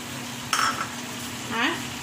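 Chicken sautéing with fresh coriander leaves for a one-pot chicken tehari, a soft steady sizzle under two brief bursts of spoon-stirring scrapes, close and moderately loud, with no voices.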